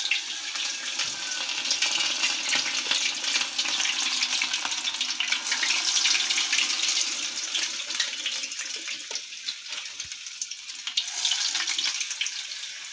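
Urad dal medu vada batter deep-frying in hot oil, a steady close sizzling hiss that holds across the whole stretch with faint bubbling crackle and no talking.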